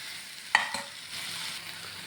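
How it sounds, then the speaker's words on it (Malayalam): Okra thoran cooking in a pan, a soft low sizzle with one sharp knock of a spoon against the pan and a quieter second tap while stirring. "ഒന്ന് ഇളക്കി യോജിപ്പിച്ചാൽ മാത്രം മതി കേട്ടോ"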